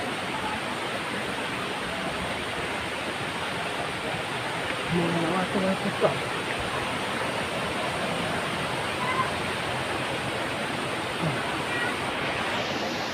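A steady broadband roar of a waterfall at Srambang Park, Ngawi, fills the whole clip, with a few faint voices briefly audible underneath.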